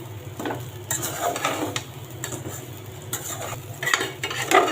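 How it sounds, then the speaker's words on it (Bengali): Rice being fried with coriander powder, green chillies and spices in a pot for Bengali khichuri, giving a soft steady sizzle broken by several scraping stirs of a utensil against the pan. "এটা এভাবে একটু ভেজে নিব চালগুলো ভেজে"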